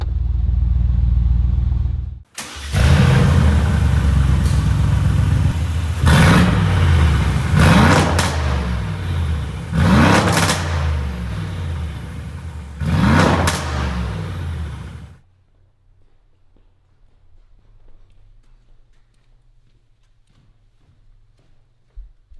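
A Mansory Gronos EVO S with 900 horsepower is started and revved hard outdoors, a loud close roar rising and falling through several sharp revs before dropping to a low, quiet idle.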